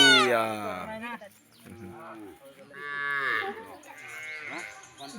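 Cattle moo loudly and repeatedly, in long drawn-out calls, in front of a village prayer hall where people have gathered with goats and cows for vaccination. A close call opens the clip and two more follow later, with a voice briefly between them.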